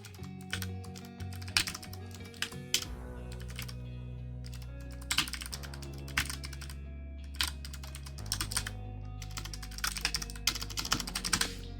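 Steady typing on a computer keyboard during a Windows investigation exercise, with rapid key clicks in bursts and short pauses, close and clear, without talking.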